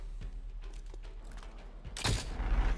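A phase lance weapon fires in the game XCOM Chimera Squad, a sudden loud burst that hits after quieter ambient game noise and rings on for under a second.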